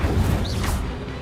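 An Incendio fire spell cast in Hogwarts Legacy, a brief dense burst of crashing, whooshing flame that swells at once and then fades over about a second.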